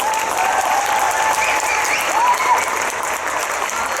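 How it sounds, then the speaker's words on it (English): A large comic con audience in Utrecht applauds steadily and loudly throughout, a dense wash of clapping with some crowd noise and no pauses. "like a big applause for Manu Bennett."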